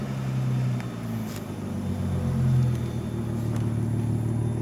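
Car engine with a cold air intake, a low steady rumble that swells in a couple of gentle revs before settling back, close and moderately loud, without talking.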